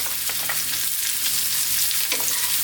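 Onions and carrots stir-frying over high heat for a vegetable stir fry, a constant dense sizzle with occasional stirring clatter, close and steady, no voices.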